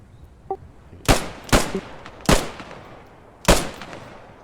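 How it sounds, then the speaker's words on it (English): Distant M1 Garand rifle shots crack out in a squad-based military video game, four sharp reports spaced irregularly over a few seconds, with a faint quieter pop before the first. "If they keep shooting with their Garands over there while this team moves around"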